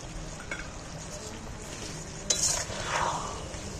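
Leftover batter is poured into a simmering jackfruit chilli curry in a pan; a sudden splash and rising sizzle break over a steady frying hiss with light stirring clinks.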